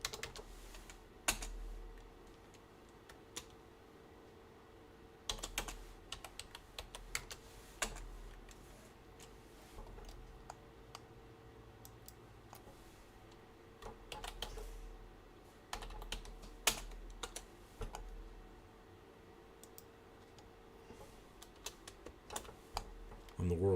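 Quick clicking on a computer keyboard comes in short bursts with pauses between, close and fairly quiet, with people talking at moments.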